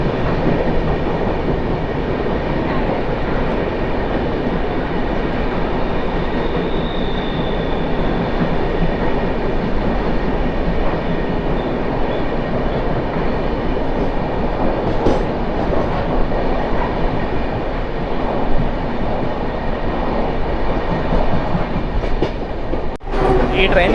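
Local trains run through Kurla railway station in Mumbai, producing a sustained, loud rumble of carriages on track with light rhythmic clatter throughout.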